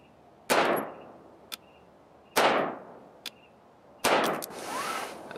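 Three loud, close gunshots from a Radical Firearms AR-15 pistol fired at slow, spaced intervals, each a sharp crack with a ringing decay, plus faint metallic clinks from ejected brass between shots.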